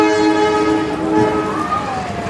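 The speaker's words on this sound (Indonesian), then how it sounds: "Bisa lihat kereta api juga teman-teman." A train runs near the Gedebage high-speed rail station in Bandung, its loud sustained horn-like tones dominating the short moment close by.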